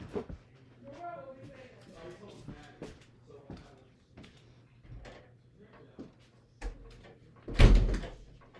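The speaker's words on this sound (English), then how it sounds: "Just had to close the door, sorry." Soft speech and movement, then a loud, close door thud near the end as it shuts.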